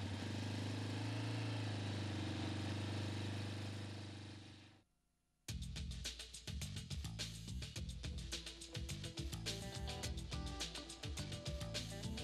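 ATV engine with a cold start on choke: a loud running drone cuts out, then after a brief gap the engine fires and settles into a rapid, choppy idle close by.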